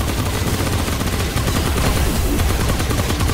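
Heavy gunfire in the video game Remnant: From the Ashes, a loud, continuous barrage of shots filling the whole clip without pause.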